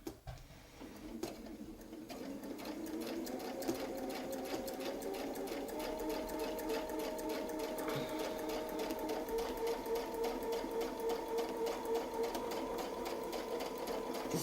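Sewing machine stitching a narrow feather quilting design along a reference line, using a Westalee feathered leaf template; a steady, continuous motor whir runs near and alone throughout after a brief quiet start.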